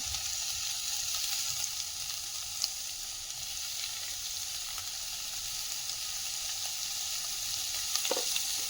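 Onions fry in coconut oil with a constant, moderate sizzle and crackle, with faint stirring taps and a brief scrape near the end.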